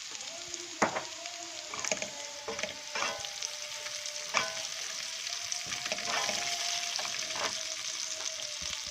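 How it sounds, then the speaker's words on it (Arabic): Vegetables sautéing lightly with garlic in a pan for Egyptian moussaka, a steady sizzle broken by repeated stirring scrapes and clinks, close and moderately loud. "اشوحها كده على خفيف"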